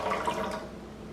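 Water is poured into a yarn dye pot holding yarn and dissolving dye, a steady close splashing stream that eases off toward the end.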